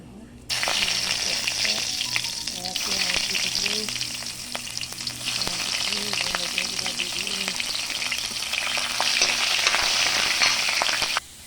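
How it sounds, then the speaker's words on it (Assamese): Onions sizzling steadily in hot oil with panch phoron, a loud continuous crackling fry close by, with faint clinks of a utensil now and then. "ৰঙাকৈ পিঁয়াজখিনি ভাজি ল'লোঁ"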